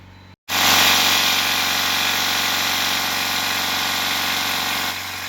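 A diesel truck engine idles with a steady, close mechanical drone and slight vibration, starting after a brief gap and holding level for several seconds with no voices.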